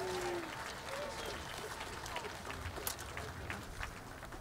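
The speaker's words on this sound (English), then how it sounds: "How about another round of applause for him, huh?" An outdoor festival crowd applauds a jazz orchestra trumpet player. The clapping is faint and distant, with crowd chatter and whoops throughout.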